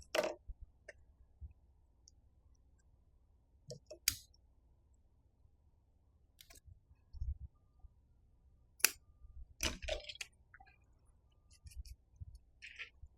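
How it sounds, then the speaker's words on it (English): Scattered sharp snips and clicks of scissors cutting fabric, a few at a time with quiet gaps between, close up and fairly faint, with no talking. "On the longer side, I can use bigger scissors."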